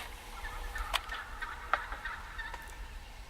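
Wild turkey toms in a field let out a few distant gobbles, about three short rattling calls spaced across a quiet outdoor background.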